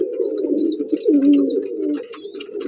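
Adult pigeons coo near the microphone in a continuous low, throaty warble that swells and dips, with faint higher chirps and rustling over it.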